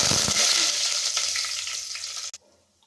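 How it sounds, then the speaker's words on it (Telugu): Cloves and cardamom fry in hot oil for vegetable biryani, a loud, steady sizzle that fades gradually and stops abruptly near the end. "లవంగాలు ఒక 5-6, ఇలాచి ఒక 3. అవి ఎర్రగా వేగుతున్నప్పుడు"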